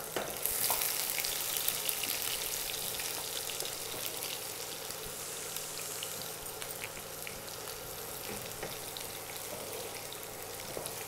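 Onion frying in a pan, browning for a potato and pea curry: a continuous dense crackling sizzle, close and even throughout, slightly louder at the start, with no voices.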